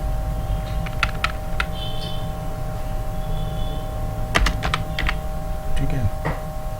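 Clicky computer keyboard keystrokes in scattered bursts during an IT class lesson, near and moderately loud over a steady low hum, with no talking.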